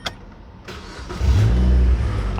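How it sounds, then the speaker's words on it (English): A 2015 Mazda MX-5 Miata 25th Anniversary Edition with its 2.0-litre naturally aspirated engine cranks briefly, then catches and settles into a loud, steady idle close by. "You just put your foot on the clutch, turn on the car, and you drive."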